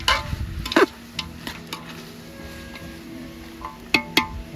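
Chicken curry mixture being stirred in a pot on an outdoor wood-fired stove: a spoon scrapes and clinks against the pot in scattered sharp knocks over a soft, faint background hiss.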